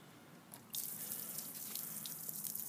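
Water bursts abruptly from the high-flow inline spigot of a full rain barrel and keeps gushing as a steady, close, hissing stream with no one speaking.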